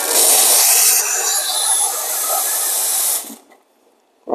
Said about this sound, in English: So remember always to purge your steam wand.